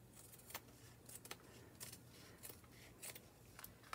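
Scissors snip through thread during a weaving craft project, a series of soft, close clicks and cuts repeating every half second or so over a steady low hum.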